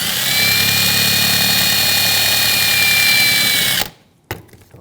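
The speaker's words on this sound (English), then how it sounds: "This one, I just need a little wire brush on here. Clean up that debris." A wire brush scrubs debris off the rear brake of a 2007-2013 BMW 328i, a loud, steady, whirring scour that runs for several seconds before cutting off abruptly, leaving a brief clack and quiet.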